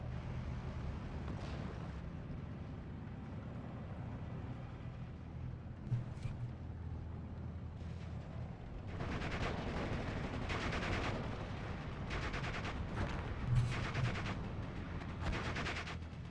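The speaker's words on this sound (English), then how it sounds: "Another rocket artillery run." Rocket artillery and gunfire in the WWII strategy game Steel Division 44 as a 21st Panzer match plays out: a low rumbling bed for several seconds, then dense, crackling bursts of distant explosions and shots that come in clustered volleys.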